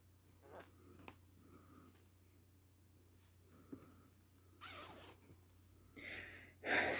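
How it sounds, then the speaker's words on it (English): A side zipper on a baby sleeper pulled in a few quick bursts near the end, preceded by soft fabric rustling and a couple of faint clicks, quiet and close. "It's like a side zipper type."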